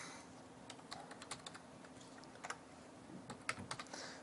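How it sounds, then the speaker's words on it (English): Quiet, close computer keyboard typing: irregular runs of light key clicks with brief pauses between words, entering code by hand, with no one speaking. "is just to type it in manually."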